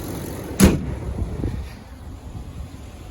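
A 2015 Ram truck with a freshly rebuilt transmission: one sharp thump, like a door shutting, lands near the start, followed by a steady low engine rumble idling close by, with no talking.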